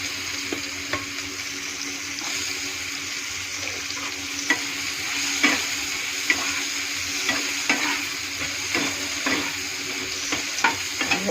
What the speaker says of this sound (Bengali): জিরা ঢেলে দিলাম, একটু নেড়ে ছেড়ে ওর মধ্যে কাটা হওয়া পেঁয়াজ ঢেলে দিলাম।